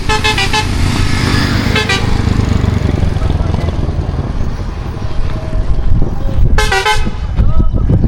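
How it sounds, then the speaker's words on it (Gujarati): A bus sounds its horn as it pulls in on a road trip from Mandvadhar toward Surat: several loud, sharp honks over the steady rumble of the engine and traffic. "આવી ગઈ છે, હોર્ન સંભળાઈ ગયો છે આપણને."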